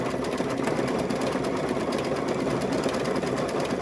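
A sewing machine stitches white and black eyes onto a stuffed bear, running in a steady, fast, even whir of needle strokes with no pauses, close and moderately loud.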